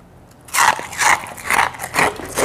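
Crisp bites into a crunchy fried glutinous rice flour snack, four or five loud close crunches coming in a steady chewing rhythm with nobody talking.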